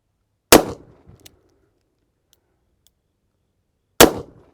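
Two loud, sharp shots from a Smith & Wesson 686+ Mountain Gun revolver firing .357 Magnum rounds at a range, about three and a half seconds apart, each a sudden blast with a short ringing decay and near silence between.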